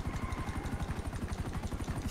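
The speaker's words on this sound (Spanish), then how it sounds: "Cuando el helicóptero levante vuelo." A helicopter lifts off in the GTA 5 video game, its rotor beating in a fast, loud, steady chop that stays close and continuous, with no voices over it.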